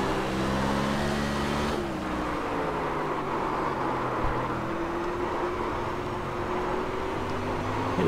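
Sprint car engines screaming around Stafford in the iRacing video game, a dense, steady drone of several engines with pitch sliding as the pack shifts, continuous and loud with no talk over it.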